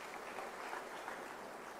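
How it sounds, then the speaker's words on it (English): Audience applause at an academic year closing ceremony, a steady, fairly quiet wash of many hands clapping throughout with no voices on top. "They require a round of applause"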